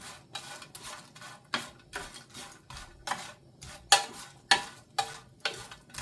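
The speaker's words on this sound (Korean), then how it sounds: "멸치를 후라이팬에다 볶아줄게요" Dried anchovies are stir-fried in a frying pan, a utensil scraping and tossing them in regular rhythmic strokes, about two per second, each a short crisp rattle close by with faint sizzling between.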